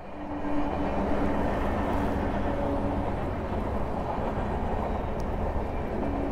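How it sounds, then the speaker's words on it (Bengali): Chennai Express train rolling past below a bridge, a loud, steady rumble of wheels and carriages filling the whole stretch without letup, no voices. "দেখতে পাচ্ছ ট্রেনটা যাচ্ছে"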